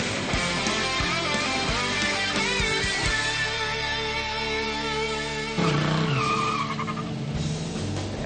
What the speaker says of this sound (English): An American Motors muscle car? You bet it is. It's an AMX.